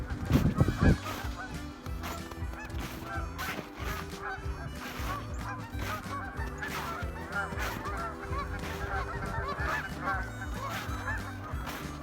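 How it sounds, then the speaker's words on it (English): A flock of geese honk outdoors, dense overlapping calls repeating continuously at moderate distance with a louder burst at the start, carrying on without any voices over them. "You hear the geese?"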